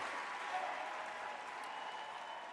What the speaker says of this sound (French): Est-ce qu'on peut applaudir pour eux, s'il vous plaît, chers amis?